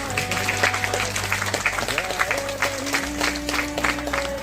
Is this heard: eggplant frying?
no